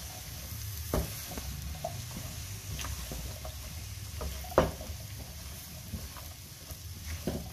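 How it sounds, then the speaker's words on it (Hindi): Chopped turnip stirred and fried in a pan for a spiced dry vegetable dish, with soft sizzling under scattered scraping clicks of a spoon, and one louder scrape near the middle. "अब यहाँ पे अच्छे से शलजम को मिक्स करते हैं।"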